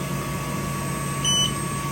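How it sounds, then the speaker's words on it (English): An xTool F1 laser engraver gives a single short, high beep on receiving a file, sitting over a steady hum of fans and room noise. "how you know it's there is it beeps, and then it also flashes blue light"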